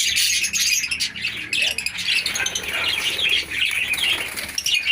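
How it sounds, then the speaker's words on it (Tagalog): Personata lovebirds in a breeder cage flap their wings in repeated bursts, with light chirps and squawks mixed into a busy, steady flutter close by. "meron na tayo ritong anim na personata tapos bukod pa yung nasa taas na dalawang pirasong personata"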